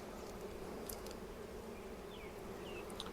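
Honeybees buzzing around hive comb at a vineyard apiary, a steady, dense drone of many wings with no break, fairly close and even in level.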